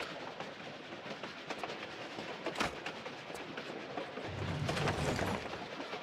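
A moving train in Tomb Raider 4, a steady rumbling rattle of wagons on track, with a louder heavy clank midway and a deeper rolling roar toward the end.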